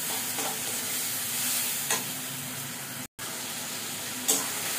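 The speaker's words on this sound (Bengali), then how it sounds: "একটু মশলাটা ভালোভাবে কষিয়ে নেব।" Spice paste with red chilli powder frying in a pan for a curry, a continuous close sizzle with a few stirring scrapes and one brief dropout, no voices.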